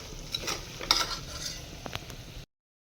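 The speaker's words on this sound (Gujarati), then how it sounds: "સરખી રીતે મિક્સ કરી દઈશું" A spicy dish being stirred and mixed in a pan, with a run of clattering spatula scrapes and knocks over a soft sizzle, stopping abruptly into silence.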